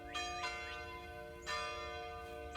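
Church bells ring with long sustained tones, a few struck notes blooming and humming on at moderate distance, fairly quiet and alone.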